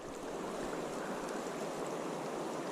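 The shallow, quick-running East Carson River flows in a steady, unbroken wash of water noise, close by and even in level throughout, with no voices.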